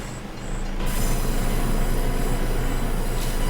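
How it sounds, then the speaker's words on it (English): A train in the Farming Simulator 25 video game rumbles past, a steady low roar that swells in after a quieter start and holds loud and close, with a brief faint horn-like tone near the end. "Yep, I didn't beat the train that time."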